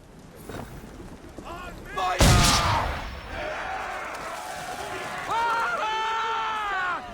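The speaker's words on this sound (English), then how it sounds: "Now give the swivel guns a turn. More precise. Hit those old powder barrels and light up the sky." Ship's swivel guns in Assassin's Creed 3 fire at powder barrels, one sharp loud boom exploding mid-clip with rumbling debris after it, while characters talk over the scene before and after.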